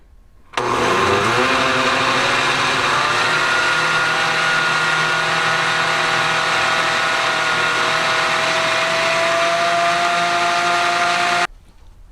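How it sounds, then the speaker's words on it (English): Kitchen blender whirring through Dutch baby batter with cinnamon, nutmeg and salt, starting abruptly, running loud and steady for about eleven seconds with a slowly rising pitch, then cutting off. "We're just going to blend all this together."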